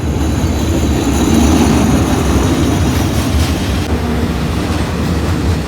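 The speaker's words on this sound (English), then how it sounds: "Here's the train!" A train passes close by on its rails in a Laos mountainside setting, a loud continuous rumble and rattle of wheels and cars with a hiss of wind, no talk over it.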